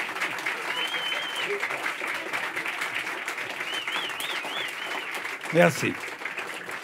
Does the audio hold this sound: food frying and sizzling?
no